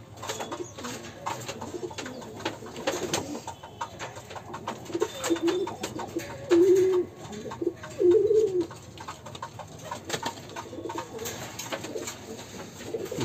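Pigeons cooing in a loft, from a small Mardda Blood cock and a Teddy-Rampuri cross hen, with several soft rolling coos rising over quiet background chatter of other birds.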